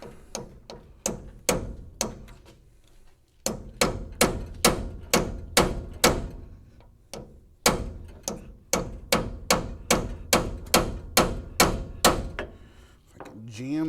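A punch chisel being hammered to free a stuck nut in a garage: loud, evenly paced metal strikes in three long runs separated by brief pauses, close up.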